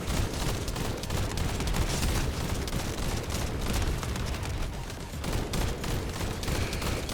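Sustained automatic gunfire in the looter-shooter game The First Descendant, a dense unbroken barrage of shots and booming impacts filling the whole stretch, loud and close with no talking.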